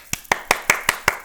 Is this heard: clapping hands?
yes